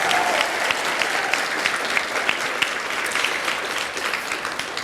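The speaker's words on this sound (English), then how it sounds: "Let's give her a big round of applause." An elementary school graduation audience claps steadily for a staff member, a busy wash of applause with a few louder individual claps standing out near the end.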